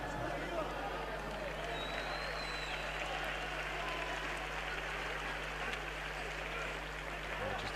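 Steady applause and crowd roar fill an arena after an amateur MMA fight in Barcelona, a dense continuous wash of clapping without breaks.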